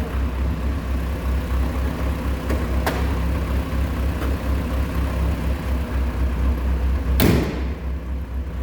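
A 1976 Cosworth Vega engine idles steadily up close with a low, even rumble, a few light knocks and a sharp thump near the end.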